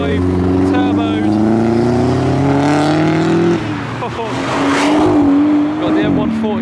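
A turbocharged Mark 1 Mazda MX5 pulls away from Castle Combe circuit, its loud, steady engine note rising through the gears, then easing off as other traffic takes over, with a voice talking over the engine.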